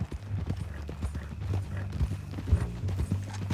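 Horse hooves clip-clopping at a steady walking pace in Red Dead Redemption 2, close and even, with faint creaks of tack and a low background rumble.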